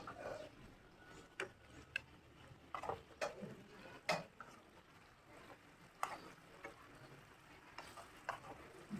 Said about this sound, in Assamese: এনেকৈ আমি লৰাই লৈ চেনীৰ পানীটো সোমাব লাগিব